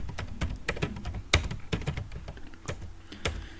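Keys on a computer keyboard clatter in quick irregular bursts during data entry in Tally accounting software, with crisp close taps and a few louder strokes in a quiet room.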